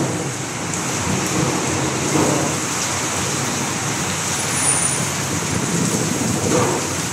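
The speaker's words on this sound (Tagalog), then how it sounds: "napakalakas ng hangin ngayon at may kasamang ulan" Steady heavy rain and strong wind roar at night in a dense, continuous wash of noise, with faint passing traffic underneath.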